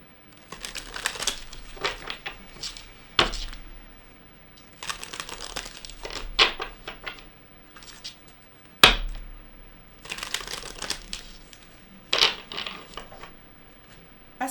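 Tarot cards being shuffled in bursts, crisp riffling and crinkly flapping in several separate runs with sharp taps and pauses between, close and fairly loud, no talking.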